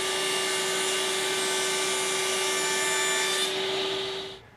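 A 17-inch wooden board being ripped to 3½ inches wide on a power saw, a loud steady high whine of blade through wood that holds evenly, then spins down at the end.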